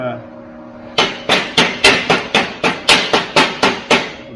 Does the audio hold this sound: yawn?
no